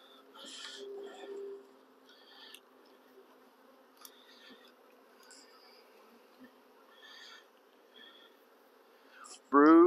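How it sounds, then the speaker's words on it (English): Honey bees buzz around the lid of a nuc hive during a hive split, a faint steady hum with scattered closer buzzes and bumps, ending in a sudden loud noise. "So here we got some good bees on the lid."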